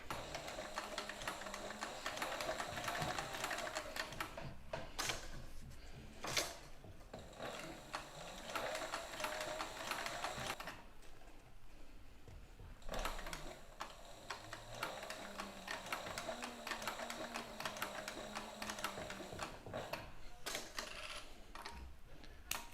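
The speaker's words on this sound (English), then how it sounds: "now we can go ahead and put them on the sewing machine and get them all sewn together" A sewing machine stitches leather in long mechanical stretches with rapid ticking stitches, pausing briefly twice before resuming, steady and moderately quiet.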